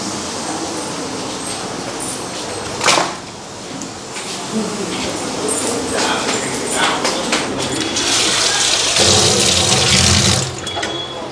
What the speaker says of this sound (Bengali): আলুটা পেঁয়াজটা ভালো করে ধুয়ে আনি